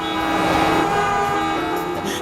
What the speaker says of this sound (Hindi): गाड़ियों के कितने हॉर्न बज रहे हैं